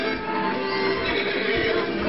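A horse in Disney Infinity neighs in a drawn-out whinny, loud and near, over steady game background sound.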